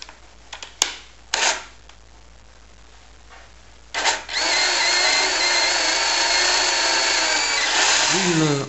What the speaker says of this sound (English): with a drill bit of 3 mm, drill in the center of the connector